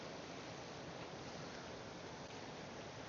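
A steady, broad rush of water flowing beneath a bridge, faint and continuous like a stream, with some wind noise and no voices.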